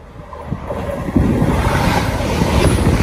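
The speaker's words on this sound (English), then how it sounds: "Passing through now is a Great Western Railway service from Penzance to London Paddington" A Great Western Railway train from Penzance to London Paddington passes through Kintbury, building from a low rumble to a loud, sustained roar of wheels and rushing air after about a second.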